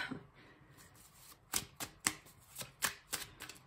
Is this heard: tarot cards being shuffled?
yes